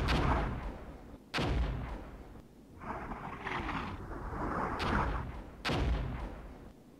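Direct gunfire from tanks and armored vehicles in Armored Brigade, with several heavy booming shots spaced a few seconds apart, some close and loud, some more distant, over a rumbling battlefield background.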